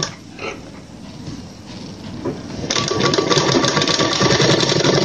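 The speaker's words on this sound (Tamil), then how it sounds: "இந்த மூணு பீஸையும் நம்ம ஒன்றா வச்சு தைக்கிறோம்" A sewing machine stitches three cut-choli fabric pieces together. Soft handling noise gives way after about three seconds to a steady, close, rapid mechanical whirring and clatter of the running machine.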